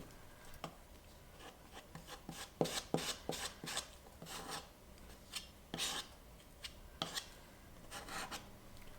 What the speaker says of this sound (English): I like using a flexible metal putty knife for the mixing.